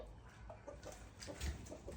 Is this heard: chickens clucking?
yes